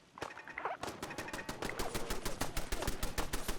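Rapid automatic gunfire in Fallout 4 rattles in a dense, fast volley that runs nearly the whole time, loud and near, with no talking over it.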